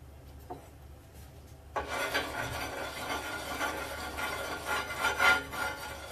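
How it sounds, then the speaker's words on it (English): Greasing a pan for a chickpea flour crepe gives close, rhythmic rubbing and scraping strokes that begin after a quiet start and continue steadily, with no voices. "I'm going to lightly grease this."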